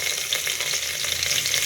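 Whole cinnamon stick and cloves frying in hot oil as the base for mutton biryani, giving a steady, close sizzle with soft crackles that runs unbroken for the full short stretch, with no voices.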